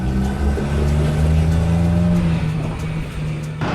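Small engines hum steadily through dense Bangkok traffic as tuk-tuks drive along, a continuous loud low drone with some passing whine, and no voices.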